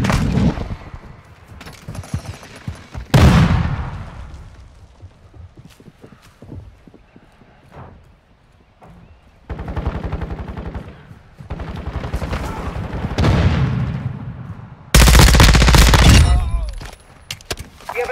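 In the Call of Duty Modern Warfare 2 video game, gunfire comes in loud bursts of rapid shots separated by quieter gaps, with clattering footsteps and radio voices between the volleys.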